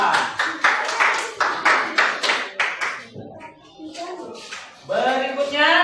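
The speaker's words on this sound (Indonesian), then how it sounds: "Tepuk tangan untuk kelompok 2." A classroom of children claps for a student group in a rhythmic burst of about eight sharp, loud unison claps, then stops as young voices and a teacher speak close by.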